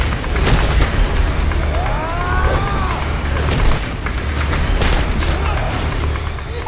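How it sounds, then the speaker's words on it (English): Gunshots ring out in an action movie trailer: a string of sharp, loud bangs cuts through a dense mix, with a siren wailing in the background. "Gunshots."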